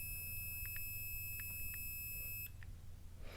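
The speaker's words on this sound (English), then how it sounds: "it will still beep at 20," A multimeter on continuity test gives several short, quiet electronic beeps in a cluster, with a steady high whine in the background and no voices.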